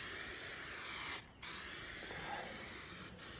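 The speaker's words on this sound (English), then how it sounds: "And then spray roughly about 100mm this way, just so that when this bit flops back over, you know you've got enough glue on this bit" Contact adhesive is sprayed onto an EPDM rubber membrane while repairing a flat roof: a steady, loud aerosol hiss that breaks off once for a moment and then resumes.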